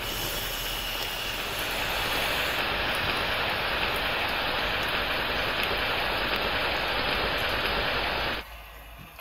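Steady rain falls outside as a dense, even hiss that holds for several seconds and then cuts off sharply near the end, with no voices.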